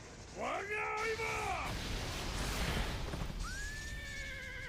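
A horse from the anime Fate/Zero whinnies in a short, bright, wavering neigh near the start, followed by a rising whistle-like tone over a noisy rushing background.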